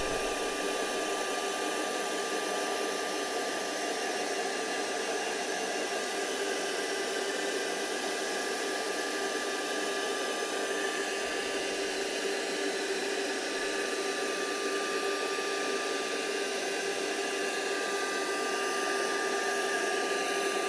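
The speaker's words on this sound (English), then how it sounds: "So I am going to hoover up just for a second, guys. Hoover warning." A vacuum cleaner runs steadily for about twenty seconds while a room is hoovered, giving a loud, continuous whooshing roar with a high motor whine and no break or change.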